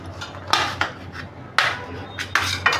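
Knife slicing through whole oranges crosswise on a board, giving four sharp close cuts at uneven intervals, each a crisp thud with a brief scraping tail over quiet room tone.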